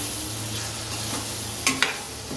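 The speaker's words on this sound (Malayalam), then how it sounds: "തക്കാളി ഉള്ളി ഒന്ന് ഇളക്കി കൊടുക്കാം" Ground tomato-onion paste sizzling in a curry pan for a spicy brinjal curry, a continuous low frying hiss with two brief sharp scraping stirs near the end.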